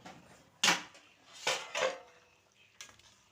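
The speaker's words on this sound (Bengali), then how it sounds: "এবার থালাটা দিয়ে ঢাকা দেব। থালাটা আমি তুলে নিলাম।" A metal plate is lifted to cover a pan of Bengali potato curry with lentil dumplings. Several sharp metallic clanks and scrapes ring out close by in quick, uneven bursts, with quiet gaps between them.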